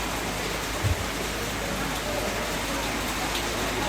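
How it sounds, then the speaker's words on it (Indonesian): Rain pours steadily during a wedding reception in Malimbong Rembon, a dense, even hiss that fills the whole stretch with little change in level and only a brief low thump near the start. "Hujan guys, hujan berkat ini katanya guys."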